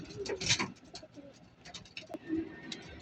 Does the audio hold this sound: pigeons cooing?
yes